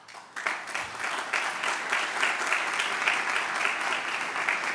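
An audience at a WordPress conference breaks into applause, starting abruptly and holding as a dense, even wash of clapping with no voices.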